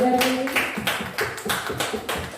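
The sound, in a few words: applause for the speaker at a school event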